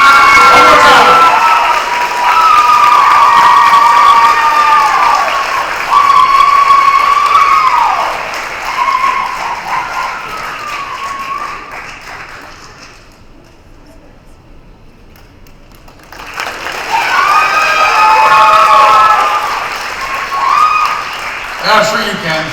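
An audience at a school awards night cheers and applauds loudly, with whoops and shouts over sustained clapping, fading briefly to near quiet before a second burst of cheering and applause.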